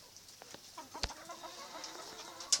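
Chickens clucking softly in a yard, with short scattered clucks and one sharper squawk near the end, fairly faint and without speech.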